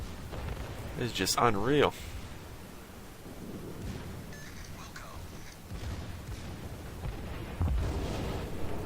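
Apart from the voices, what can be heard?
battleship secondary guns firing in World of Warships video game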